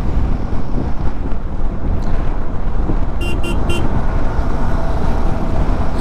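A Royal Enfield Himalayan 450 motorcycle riding at high speed, close to 100, with a constant roar of engine, road and wind rush and no pauses.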